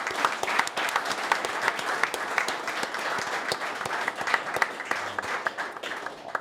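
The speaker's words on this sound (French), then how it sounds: "Ah oui, vous pouvez applaudir." A studio audience applauds warmly, a dense, even burst of many hands clapping close by that holds steady throughout, with no speech over it.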